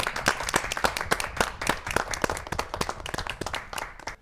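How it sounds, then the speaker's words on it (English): A small group applauds quiz participants with close, uneven handclaps that come in a brisk, steady run throughout. "I think it deserves a big round of applause for all the participants."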